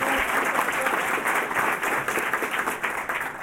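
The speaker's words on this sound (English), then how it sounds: "A round of applause for our sponsors." An audience at a civic club luncheon gives a round of applause for event sponsors: dense, sustained clapping from many hands filling the room for several seconds.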